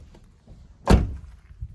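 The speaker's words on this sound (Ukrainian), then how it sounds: "Дверки закриваються в холодильничку" A single soft thunk of a small fridge door shutting inside a 2013 Opel Vivaro passenger van, close by and fairly quiet, in an otherwise hushed space.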